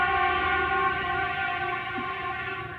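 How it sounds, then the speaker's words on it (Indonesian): A train passes in a small Indonesian town, a steady rumbling drone with sustained tonal whine heard alone, loud and close, fading slightly toward the end. "Kereta"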